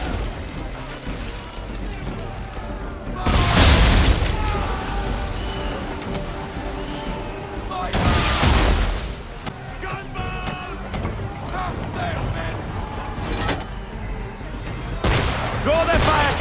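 Gunboat cannons boom in a naval battle in Assassin's Creed III, with several heavy blasts spaced a few seconds apart over a constant rain-like wash of water and battle noise, with voices talking.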